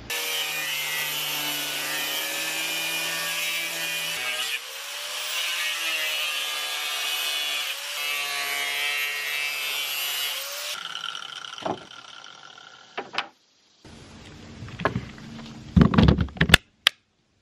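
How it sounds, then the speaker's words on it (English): A saw cuts scrap Hardie fiber-cement siding into strips, giving loud, steady buzzing cuts in three long passes with short pauses, then scattered knocks and clatter as the pieces are handled. "I have some scrap pieces of hardy siding left. I need to cut down into strips to put here."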